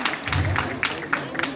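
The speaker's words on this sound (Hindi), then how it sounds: "इनके लिए जोरदार तालियां" An audience at a Hindi poetry recital claps for the next poet, a short burst of scattered applause with a few sharp individual claps and murmuring voices beneath.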